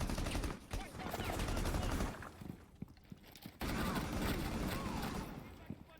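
Rapid bursts of .308 rifle fire from a Vector in a video game crackle in quick volleys with short pauses, fairly quiet and mixed with game sounds.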